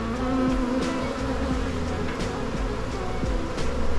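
A honey bee swarm buzzes steadily and densely all around, a close continuous drone of many wings outdoors with no talk.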